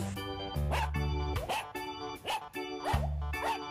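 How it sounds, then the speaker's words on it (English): A cartoon dog barks repeatedly in an educational animals cartoon for kids, several bouncy bow-wows in a steady rhythm over cheerful background music. "dog."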